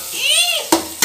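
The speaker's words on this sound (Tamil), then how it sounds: "இந்த அளவுக்கு தக்காளி வெங்காயம் வந்து நல்லா வதங்கியிருக்கணும்" Onions and tomatoes sauté in a pan for biryani, giving a short sizzle with a scraping stir, then two sharp clinks of a utensil against the pan, close and loud.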